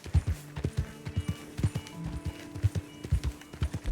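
A horse's hooves clip-clop at a steady trot in Red Dead Redemption 2, with rhythmic close, sharp thuds throughout and low game sounds beneath.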